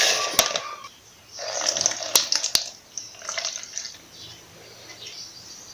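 Aloe vera and fenugreek juice being poured through a sieve, with intermittent splashy trickles and drips in short bursts, plus a few sharp clicks of utensils against the container in a quiet room.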